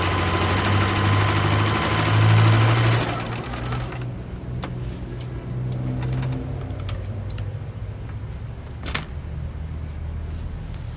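A sewing machine stitches a fabric wallet, its motor running in a loud, steady whir for about three seconds before dropping to a quieter, intermittent hum with light clicks.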